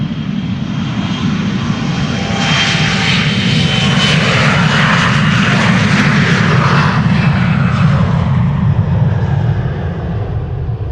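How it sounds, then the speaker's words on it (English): A KLM Embraer 175 jet departs Amsterdam Schiphol Airport with a loud, steady engine roar that swells and holds close by throughout, with no talking. "This is KLM Flight 903 to Inverness, Embraer 175."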